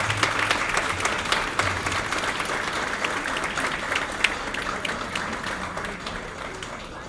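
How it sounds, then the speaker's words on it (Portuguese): A round of applause at a formal civic ceremony, a steady wash of many hands clapping that slowly thins toward the end, with faint voices under it. "Com uma salva de palmas"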